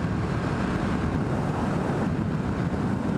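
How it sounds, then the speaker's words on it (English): Steady, loud wind buffets the microphone of a cyclist riding on a country road in a continuous low rumble with no pauses and no voices. "Yeah, it's windy today."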